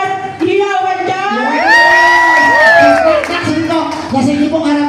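A party crowd at a Christmas party cheers and shouts loudly, with high whooping voices rising together over scattered clapping, close and energetic throughout.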